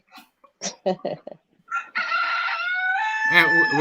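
A rooster crowing in the background outdoors, preceded by a few short clucks and calls, then one long drawn-out crow, loud and clear with no talk.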